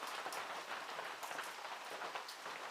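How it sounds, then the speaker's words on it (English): Heavy rain with big drops falling outdoors, a faint, dense, steady patter without talk. "we're getting some good rain now"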